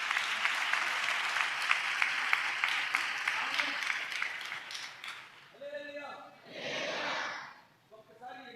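A church congregation claps loudly and steadily in praise for about five seconds, the dense applause then fading into scattered voices and murmurs.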